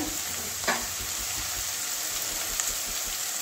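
Onions frying in a pan with ginger and garlic for a soybean curry: a close, continuous crackling sizzle with a sharp stir or scrape near the start and another faint knock later, no talking.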